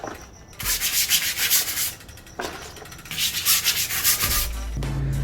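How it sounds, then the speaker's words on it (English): Brush scrubbing a Commencal Clash mountain bike, two bursts of vigorous rhythmic bristle scraping with a short pause between, close and loud. "Then just go scrub"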